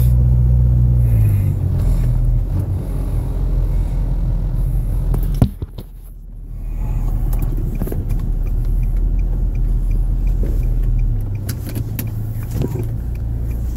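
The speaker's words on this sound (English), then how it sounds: "And I'm pulling up now." A car engine rumbles steadily while driving, with a brief dip and quiet moment mid-way before the low drone resumes and eases off near the end as the vehicle pulls up; no talking heard.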